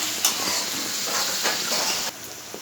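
Masala fries in hot oil in a kadai for egg curry, a soft, continuous sizzle and hiss close by with faint stirring scrapes.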